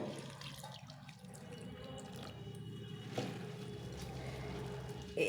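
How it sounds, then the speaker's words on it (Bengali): Thick flattened rice (chira) being washed under a running tap, a steady close stream of water with soft splashing and a brief knock near the end, no talking. "এটাকে ধুয়ে একটু ভিজিয়ে রাখতে হবে তো এটাকে ভালো করে আমি এখন ধুয়ে নেবো"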